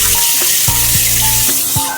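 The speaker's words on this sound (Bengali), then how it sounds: "এবার আমি এখানে 5টার মতন কাঁচা লঙ্কা নিয়েছি, চিড়ে নিয়েছি, লঙ্কাটা তেলে দিয়ে দেবো" Five slit green chillies sizzle in hot oil in a pan for a light fish curry, a steady, close, loud hiss broken by a few soft knocks of stirring.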